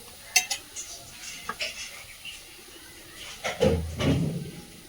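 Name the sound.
wok (kadai) being handled and set on the stove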